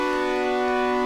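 Chord Organ synthesizer module running its stock chord stack, a brief sustained bright chord with a steady, slightly wavering chorus-like shimmer.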